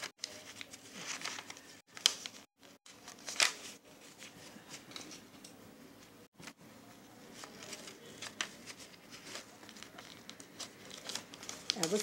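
A paper sewing pattern for a half-circle skirt is handled and folded, giving soft crinkles and rustles in scattered bursts at close range, fairly quiet.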